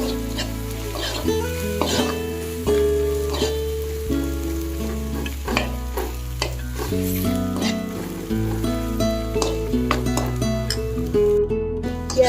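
Onions and meat masala powder are stirred in a frying pan for a pork dish with elephant apple, a busy sizzle with scraping strokes heard under prominent background music.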